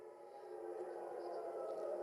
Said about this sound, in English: the sirens are now wailing over Tel Aviv, indicating that another missile is inbound